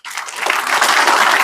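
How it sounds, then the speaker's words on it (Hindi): An audience at an RCM business gathering bursts into applause for Mahesh Chaudhary: dense, steady clapping that starts abruptly and holds loud and even for about a second and a half. "एक बार महेश चौधरी जी के लिए ताली बजा दो।"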